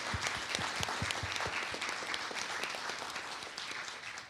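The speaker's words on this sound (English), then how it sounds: "Can we give everyone a round of applause?" A panel-discussion audience breaks into applause, opening with a few distinct claps that swell into dense, steady clapping before easing slightly near the end, heard close and with no talking.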